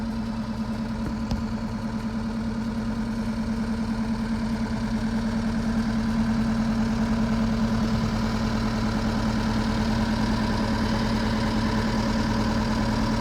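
A 1979 MG Midget 1500 engine runs at a steady idle, close and continuous with a low even drone throughout and no talking.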